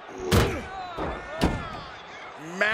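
In WWE 2K24, a wrestler is slammed into a door, giving a series of three heavy, booming metallic thuds at uneven intervals with ringing resonance and commentary voices in the background.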